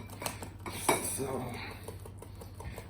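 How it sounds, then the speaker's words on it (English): A utensil scraping and clinking around a bowl while mixing double chocolate peanut butter cookie dough, close clattering strokes with a louder knock near the start, no voices. "So let's get this stirring."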